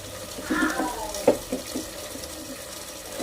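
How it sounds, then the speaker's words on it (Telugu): Tamarind juice pours into a curry pot in a short liquid splash and trickle, followed by a few soft clinks and stirring sounds, fairly quiet and close. "నెక్స్ట్ చింతపులుసు యాడ్ చేసుకోవాలి."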